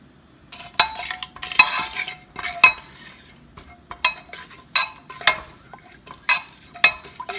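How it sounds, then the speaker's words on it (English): A cinnamon stick and dried peppers sizzle in warming oil, crackling softly with irregular bursts, mixed with clinks of a utensil stirring in a pan, close and moderately quiet. "want the oil to get just a little warm so that you can hear the sizzling"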